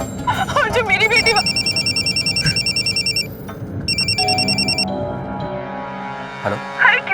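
A telephone rings in repeated bursts of bright electronic trills, loud and close, then stops; a voice is heard faintly around the ringing.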